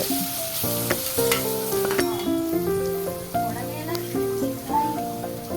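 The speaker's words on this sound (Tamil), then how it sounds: "இந்த அடுப்பில் வெங்காயத்தை நல்லா வதக்குங்க" Onions sizzle steadily in a hot pan for dum biryani, a dense crackling frying sound, close up, with occasional stirring clinks and a background tone.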